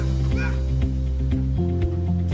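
A man imitating a dog, giving short barks in a steady rhythm against a loud, continuous low machine hum that stays strong throughout.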